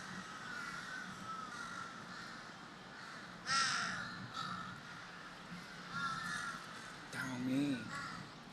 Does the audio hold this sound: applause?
no